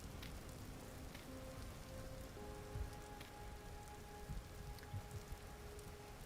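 Soft, steady rain in the video game Vintage Story patters on a surface, faint and continuous, with a few brief tones and low thumps mixed in.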